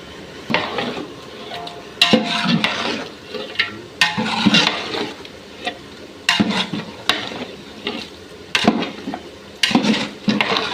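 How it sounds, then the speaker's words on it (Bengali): Beef being stirred and mixed with spices and kewra water for tehari in a metal pot, with repeated scraping and clanking of a spoon against the pot at close range. "এখন সব মশলাগুলো একসাথে মিশিয়ে নিব।"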